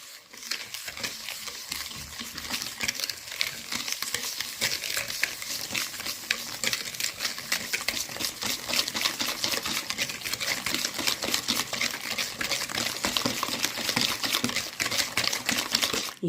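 Semolina cake batter is stirred briskly in a bowl, a fast, even run of wet, scraping clicks from the whisk or spoon that holds close and steady throughout, with no talking.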